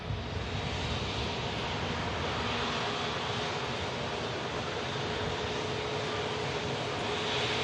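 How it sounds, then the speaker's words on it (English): Emirates Airbus A380 at Manchester Airport, a continuous loud broadband jet engine roar that stays steady throughout, with no voices. "Let's have a look at the Emirates A380,"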